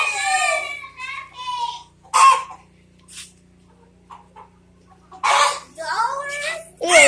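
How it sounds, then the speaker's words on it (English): Roosters crow and cluck in cages at a chicken farm, a few loud separate calls with quiet gaps between, and a low steady hum underneath. "These are more roosters."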